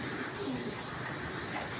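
A male gangchil pigeon cooing softly, a brief low murmuring call heard close against a faint, noisy background.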